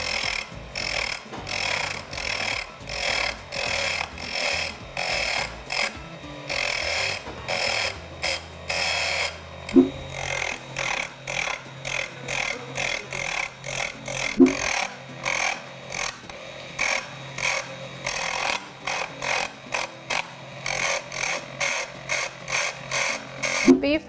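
Handheld power tool shaping a wooden cylinder for a model sailboat, a continuous close buzzing grind pulsing in steady bursts, with occasional sharper knocks and no talk.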